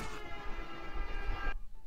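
Train in the Garry's Mod asdfmovie weapons mod, a sudden loud tonal horn blast with rumbling rail noise beneath, lasting about a second and a half before cutting off abruptly.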